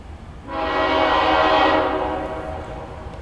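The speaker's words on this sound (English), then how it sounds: "Sounds like it's a brand new horn." A CSX local mixed freight train blows a bright, clean horn chord for about two seconds, loud and close, then it trails off over a low rumble.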